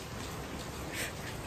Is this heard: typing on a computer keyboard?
no